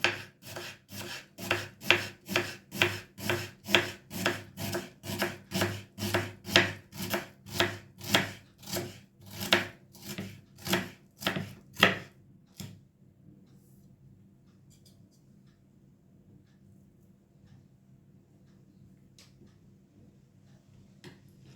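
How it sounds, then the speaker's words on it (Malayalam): A knife finely chopping a small onion on a board, about twenty quick, evenly spaced close cuts for twelve seconds, then quiet with faint room noise. "ചെറിയൊരു സവാള അത്ര മതി. അതിന് ചെറുതായിട്ട് കുനുകുനാന്ന് അരിയും വേണം"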